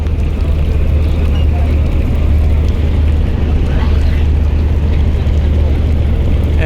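The passenger launch MB Yubraj 7 departs from Charmonai, giving off a loud, steady engine drone with rushing water and wind noise that hold constant throughout.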